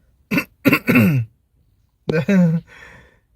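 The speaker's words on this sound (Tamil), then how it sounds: "இங்கே பாருங்கள், நான் சும்மா இருமல் காட்டுறேன்." A voice produces a few deliberate coughs and throat-clearing sounds up close, in two bursts separated by a pause, ending with a breathy exhale.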